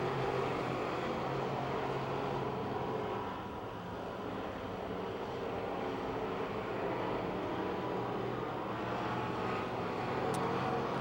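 Race cars lap the oval at Pennsylvania Motor Speedway near Pittsburgh during a feature race, producing a faint, distant, continuous engine roar that swells and fades slightly as the field passes, with no voices present.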